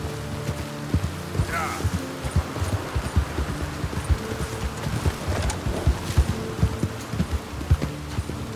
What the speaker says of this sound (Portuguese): coloco a sela no meu cavalo Caneco e parto para um outro local